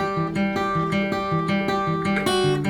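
An acoustic guitar strums a bridge chord progression from a song, with evenly spaced chord strokes in a steady rhythm, close and clear with no voice over it.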